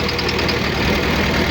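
A Volvo road roller's diesel engine runs with an abnormal knock, a dense, loud, continuous mechanical clatter heard up close and alone, with a fast, regular rhythm throughout.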